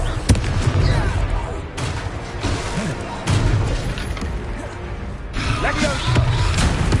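Rapid fiery blasts and booming impacts from the Confringo fire spell in the Hogwarts Legacy video game, repeating in loud bursts amid battle clatter and raised voices.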